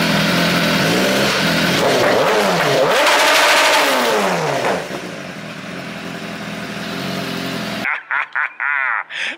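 BMW S1000RR motorcycle fitted with an Arrow Evo 2 exhaust, its engine held at a loud, steady high-rev roar on launch control, swelling and wavering, then easing off before a few sharp blips close by.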